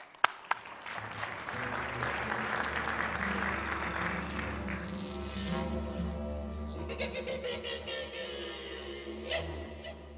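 An audience applauds steadily for the whole stretch as a government minister is welcomed onstage at an agricultural technology event, the clapping loud and sustained with a few sharp bursts near the start.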